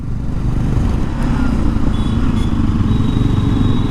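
Bajaj NS 200 motorcycle fitted with an Akrapovic full system exhaust, its engine giving a steady, loud, deep rumble close by for the whole stretch, with no talk over it.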